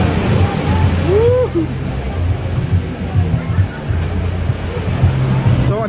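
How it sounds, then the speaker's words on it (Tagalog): Strong ocean surf at Abagatanen white sand beach in Agno, Pangasinan, gives a loud, steady wash of roaring waves and wind. A low engine-like rumble runs underneath, and a voice briefly speaks over it. "kaya po malakas yung alon"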